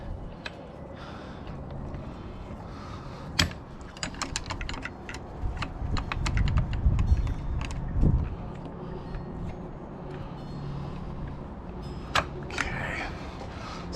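Screws being driven by hand into a Carmtek keyless RV entry lock on a Grand Design Imagine travel trailer door: a string of sharp, close clicks and small metallic ticks come in irregular bursts over a low, steady background hum.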